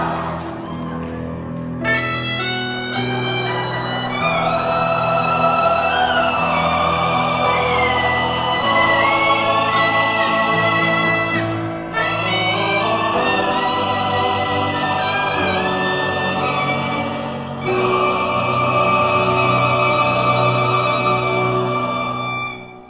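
A suona plays a loud, bright, piercing melody close up, sustained with strong harmonics and brief pauses between phrases, during a choir's concert performance of a comic song.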